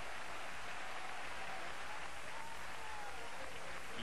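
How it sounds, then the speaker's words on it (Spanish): Stadium crowd at a 1989 AC Milan versus Real Madrid football match applauding Angelo Colombo, a steady distant wash of clapping from the stands that holds evenly throughout. "Angelo Colombo, se ganaba los aplausos de la tribuna."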